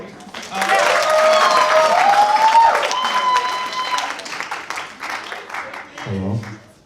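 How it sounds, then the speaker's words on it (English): A theatre audience at a best-of show applauds volunteers, dense clapping that starts after a moment and carries a steady swell before thinning, while a voice talks over it and a whistle-like tone rises through the noise. "Let's give him a round of applause."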